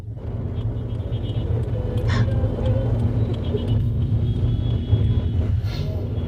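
Heavy city traffic with buses in Bangladesh makes a dense, continuous low rumble of engines close by, with a few brief higher sounds rising over the steady roar.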